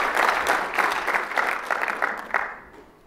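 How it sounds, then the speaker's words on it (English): Round of applause from the audience at the Shmoocon 2010 security conference as a speaker takes the stage, a dense burst of many hands clapping that holds for about two seconds, then fades to quiet. "Give him a round of applause."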